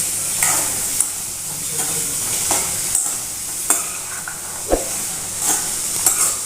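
A spatula stirs salted chickpeas frying in oil in a pan, scraping and knocking in repeated strokes over a constant hiss of sizzling, close up with no voices.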